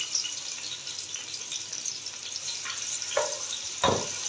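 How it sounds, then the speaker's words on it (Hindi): Onions frying in oil in a pot for beef nihari, a steady close sizzle throughout, with a couple of louder bursts of crackle near the end. "तो प्याज को हम इतना फ्राई करेंगे कि ये डार्क ब्राउन हो जाए"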